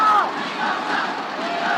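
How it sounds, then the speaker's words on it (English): Crowd at a 2019 U19 Asian youth rugby match between Chinese Taipei and Singapore roaring and cheering in a steady, dense wall of noise, with a brief whoop at the start. "The crowd's going wild"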